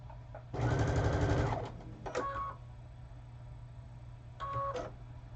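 A sewing machine stitches fabric laid with diagonal seam tape, one loud continuous run of about a second followed by two short, fainter bursts, over a steady low hum.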